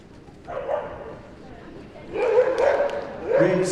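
Winnie, a six-year-old lurcher, barks and yips in short bursts during an agility jumping run at the Crufts British Open, with an announcer talking over the barking.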